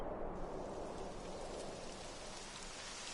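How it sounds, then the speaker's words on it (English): Steady rainfall in the video game Dragon Quest XI, a dense continuous hiss of rain on surfaces that holds evenly throughout with no voices. "It would have to go and start raining, wouldn't it?"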